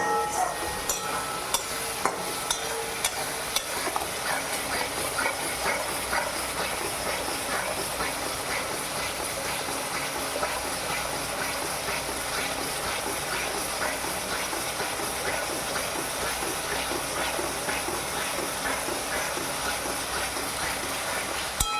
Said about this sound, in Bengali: তেলটা গরম হওয়ার পর দিয়েছি আদা রসুন পেঁয়াজ এর পেস্ট